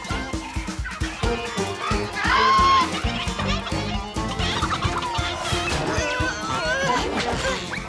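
Several chickens cluck and squawk busily amid a noisy, cluttered cartoon soundtrack, with voices mixed in and occasional sharp cries.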